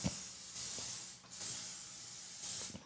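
An extra virgin olive oil cooking spray can releases several long, steady hissing bursts with brief pauses between them, close and fairly loud, with no talking.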